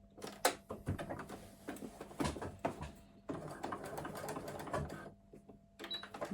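Sewing machine stitching the bottom seam of a crossbody bag lining, a steady close mechanical whirr running in bursts with brief stops and small handling knocks between.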